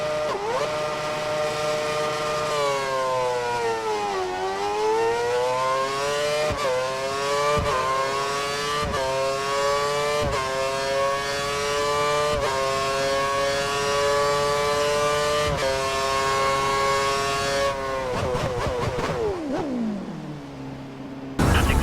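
A Formula 1 race car on a wet track in the video game F1 2013 revs loudly and continuously, its engine pitch rising through repeated gear shifts before dropping sharply as it slows to a stop.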